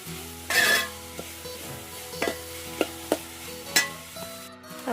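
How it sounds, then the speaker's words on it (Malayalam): Onions sizzle in a hot pan while a spoon stirs them for a mushroom roast, with a steady close frying hiss broken by sharp scraping and clinking strokes against the pan. "നന്നായിട്ട് ഇനി ഇളക്കി കൊടുക്കാം."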